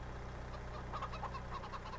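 Chickens in a farming video game cluck at their feed trough, short bursts of clucking rising over a steady low engine-like hum, fairly close and continuous.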